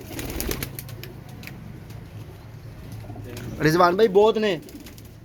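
Rampuri pigeons at a Lahore pigeon market coo in the background, a steady low murmur, while a voice rises briefly toward the end.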